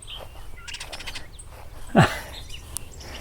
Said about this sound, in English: And it looks like I've got a song sparrow.